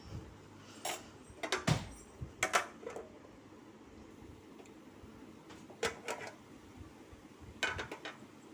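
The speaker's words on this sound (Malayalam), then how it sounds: "തുറന്ന് നോക്കാം ഇളക്കി കൊടുക്കാം" Lid lifted off a pan of prawn and spinach thoran, then a spoon scraping and clattering against the pan in several short bursts separated by quiet gaps, close and fairly soft.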